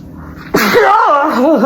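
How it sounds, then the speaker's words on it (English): A single loud, abrupt sneeze bursts out close by after a quiet moment, trailing off into a wavering voiced sound. "I put on a sneeze there a while ago."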